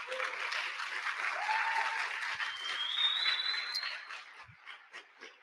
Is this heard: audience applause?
yes